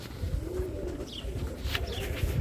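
Birmingham Roller pigeons coo in a loft, soft low throaty coos repeating over a busy background, with a few faint higher chirps mixed in.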